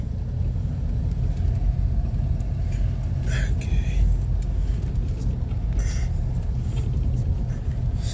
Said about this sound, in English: I'll probably run my F-150 until it gets up to operating temp.